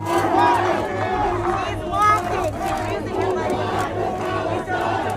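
Protest crowd jeering at police moving in wearing gas masks, a dense roar of shouting and booing voices at close range with a low steady hum beneath.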